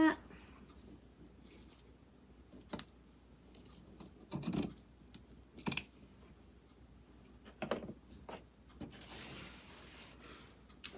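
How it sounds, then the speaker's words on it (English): Scissors cutting craft material for a homemade Christmas gift with lights, a series of short, close snips and rustles scattered across several quiet seconds, separated by pauses and faint handling noise. "I'm gonna pull this down and see where I need to cut that."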